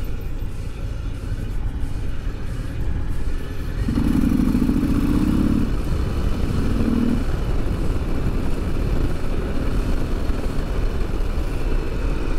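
A Harley-Davidson Sport Glide motorcycle cruises on the road, a steady close engine rumble under wind noise with a few brief humming tones in the middle.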